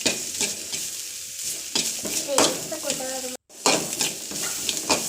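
Onion, green chilli and ginger garlic paste sauté in a hot pan, with a close, lively sizzle broken by repeated scraping stirs of a spatula, then a brief silence before the stirring resumes.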